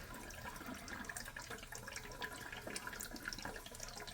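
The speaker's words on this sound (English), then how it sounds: "it's just barely trickling out of there" Water barely trickling from a fixture with a broken float, a faint, continuous watery hiss and patter in a quiet room, with no talk.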